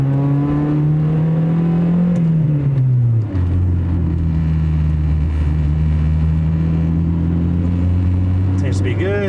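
Loud Honda Civic fitted with a cheap Temu intake, engine note rising then dropping through a gear change and pulling again, a strong steady drone close up inside the car.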